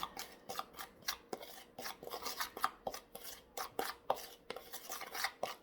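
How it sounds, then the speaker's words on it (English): Turmeric and baking soda are stirred into a face mask paste in a small bowl, giving quick, faint scraping and tapping strokes in an uneven rhythm with no talking. "Then I'm going to mix all this together."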